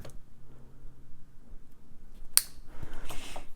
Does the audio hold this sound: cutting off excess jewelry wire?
yes